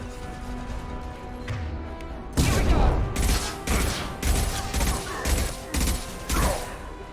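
A shot in the video game Mass Effect 2 sets off a heavy explosion, followed by a rapid series of loud percussive bursts and mechanical impacts in a steady rhythm.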